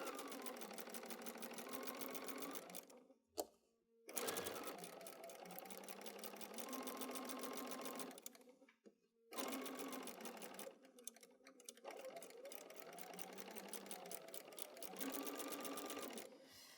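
A sewing machine stitches quilt patchwork in close, fast rhythmic runs, pausing briefly a few times before resuming its steady mechanical chatter.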